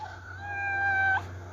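A cat meows once, a drawn-out rising and falling tonal call lasting about a second that ends abruptly, close and clear over a low background hum.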